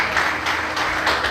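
A church congregation applauds loudly during a worship service, producing dense, sustained clapping that swells slightly in steady waves through the short stretch.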